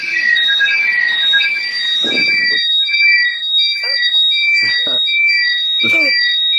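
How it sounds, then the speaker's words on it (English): A virtual-world fire alarm shrills in repeated high, steady electronic tones, loud and persistent, while several people talk briefly over it. "It sounds like alarm's gone off in the virtual world."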